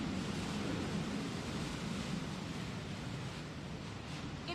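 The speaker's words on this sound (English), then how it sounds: "In fact, just take a listen to that wind." Hurricane Michael's wind roaring as it comes ashore near the beach, a dense, steady, loud rushing roar that fills the whole stretch with no talk.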